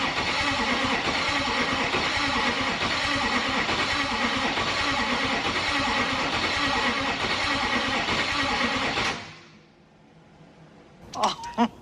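A hot-wired twin-turbo LB7 Duramax diesel engine cranks loudly and steadily with a rhythmic starter churn for about nine seconds, then stops abruptly, followed by quiet and a few faint clicks and knocks.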